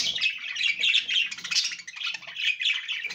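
Pet birds, a green bird and a canary, calling inside a spacious cage, with steady overlapping high chirps and squawks throughout, close and fairly loud with no talking.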